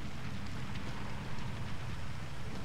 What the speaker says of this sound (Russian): Ну и дождь начинается.